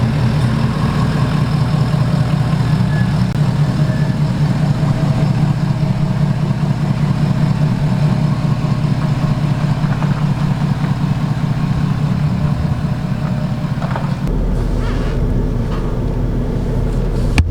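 A Ford F250 pickup fitted with 24x14 wheels and 35-inch tyres drives along with a continuous, loud, low engine rumble and road drone from inside the cab, shifting slightly in tone near the end, with no talk.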